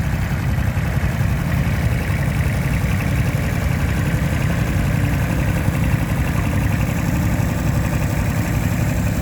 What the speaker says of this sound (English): Here's that Kubota 14 horsepower.